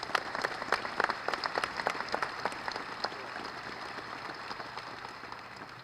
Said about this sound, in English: If we could give him a round of applause for Jeff O'Malley.